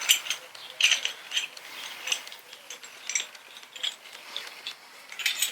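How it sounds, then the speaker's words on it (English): Piston spreader being wound in on the brake caliper of a Yamaha MT-09 motorcycle, a close, quiet run of rapid ratcheting clicks repeating steadily throughout, with no speech. "We're going to give the piston spreader a go. Right, let's go wind this in."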